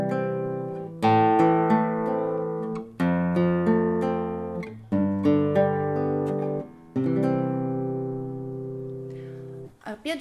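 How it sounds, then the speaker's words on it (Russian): Four guitar arpeggios in turn, chord notes picked one after another and left ringing, each phrase stopping before the next begins, heard alone and close. "Арпеджио – это когда мы эти же звуки извлекаем поочередно."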